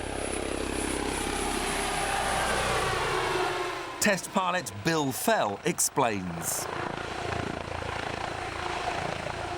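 A Comanche military helicopter with a fly-by-wire system flies overhead, its rotor and engine roar sweeping in a long steady wash, while someone speaks briefly over it midway.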